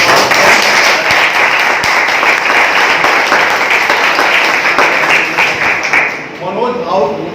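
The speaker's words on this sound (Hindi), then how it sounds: "एक बार खूब जोर से जोरदार ताली से" An audience at Kunwar Singh University in Arrah breaks into loud, sustained applause for the Bhojpuri poet Manoj Bhavuk. The clapping dies down near the end as a voice begins to speak.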